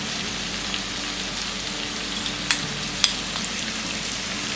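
Chopped vegetables and yellow capsicum fry over medium flame for chili idli, a steady dense rain-like sizzle with a couple of faint clicks of a spatula, no speech.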